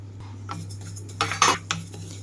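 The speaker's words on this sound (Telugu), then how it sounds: "ఇందులోకైతే ముందుగా ఆయిల్ ఏమీ వేయకుండా నువ్వులైతే కొంచెంగా వేయించుకుంటున్నాను." Sesame seeds dry roasting in a pan without oil, heard as a handful of light metallic scrapes and clinks of a spatula stirring, close and clear over a faint steady hum.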